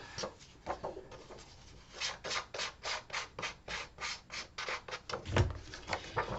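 Paper card edges being sanded by hand, a steady series of rhythmic scraping strokes close up, about two per second, fairly quiet with no talk.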